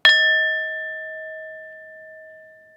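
A singing bowl resting on a flat palm is tapped once, giving a clear bright strike followed by a pure ringing tone that slowly fades over about three seconds, alone and close.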